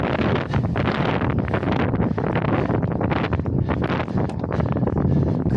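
Strong wind buffets the microphone while cycling uphill on a bicycle in the Collio–Brda hills, a loud, continuous roar with gusty surges throughout and no voices.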